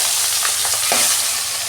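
Tengra fish frying in hot oil in a kadai, a dense, steady sizzle that stays loud and even throughout with no voices.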